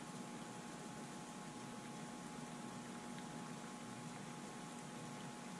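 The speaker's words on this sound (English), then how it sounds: "We've come to a full boil now," Water comes to a full boil on a Sunavo electric single-burner hotplate, making a steady, dense, hissing bubbling rush with a low hum underneath, continuous and close with no talking.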